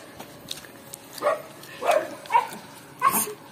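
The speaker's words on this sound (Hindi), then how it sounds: "अंकल जी के दो कुत्ते।" A pair of dogs outdoors near Ramnagar by Corbett bark several times in short, separate bursts, fairly close and clear over faint background noise.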